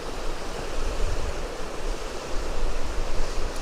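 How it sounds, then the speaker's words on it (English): Wind gusting through trees near a waterfall in Borrowdale in the Lake District, a loud, rushing roar of broadband noise that swells and buffets the microphone throughout. "So waiting again for the wind to die back a bit."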